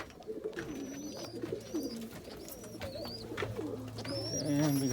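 A baby Egyptian Swift pigeon calls with short, thin squeaks and chirps, close to the microphone. Low cooing from other pigeons sits underneath, and the calls grow a little louder toward the end.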